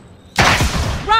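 A rocket launch in Call of Duty: Modern Warfare bursts out suddenly after a quiet start, a loud, close whoosh and boom that lingers, with a brief voice-like tone near the end.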